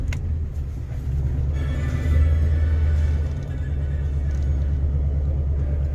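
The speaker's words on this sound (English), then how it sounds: "let's give her a cold start" A 2007 Chevy 3500 Express van cranks and fires on a cold start in 21-degree weather, settling into a steady, low, rumbling idle heard up close.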